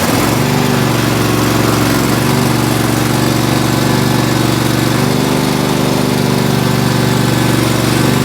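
A small engine, likely on a lawn mower or similar machine, runs steadily after a stripped spark plug thread repair, a loud continuous drone with a slight shift in pitch partway through and no talking.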